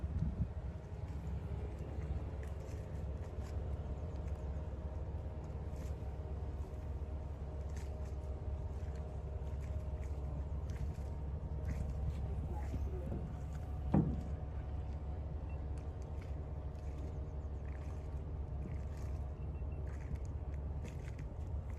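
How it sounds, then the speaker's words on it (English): Waterbus on the lake at Ross Castle running its engine with a low, steady drone while backing up, distant and faint under wind, with one brief sharp knock partway through. "Sounds like our engine has started"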